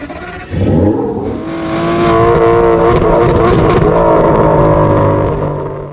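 A Lamborghini Urus SE hybrid SUV starts with a sharp bark, then its engine revs up and holds a loud, sustained, harmonic roar close by before easing off at the end.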